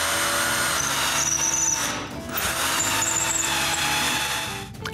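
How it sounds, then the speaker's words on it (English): A power drill whines steadily and loudly, spinning a wooden shaft into its holes while assembling a wooden tripod in a workshop, with a brief dip in pitch midway before the high squealing hum resumes. "I use a drill to drive the shaft inside their holes."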